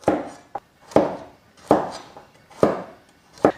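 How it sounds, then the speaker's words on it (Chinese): A knife chopping red radish into rolling-cut chunks on a board, about five distinct, evenly spaced cuts with lighter taps between them, close and clear with no talk. "切成滚刀就可以了"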